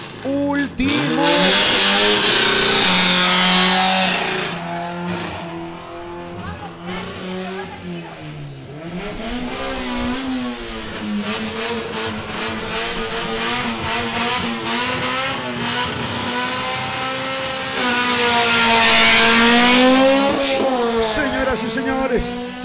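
Subaru and Honda drag racing cars scream through rising, shifting engine revs, loud and sustained with gear changes and a second surge near the end, while an announcer talks over the roar.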